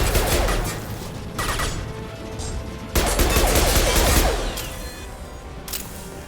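Rapid weapon fire in the video game Mass Effect 2, loud dense bursts of shots in two main volleys with brief lulls between them, close and unbroken by talk.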